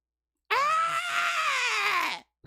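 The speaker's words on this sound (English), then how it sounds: "did you hear the screeching of the wife?" A woman screeches shrilly at a kangaroo in a video played back on screen, one long sustained high-pitched scream lasting under two seconds before cutting off abruptly.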